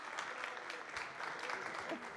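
An audience at a conference on 5G mobile technology applauds, a dense, steady patter of many hands clapping throughout, heard quietly as if from a distance.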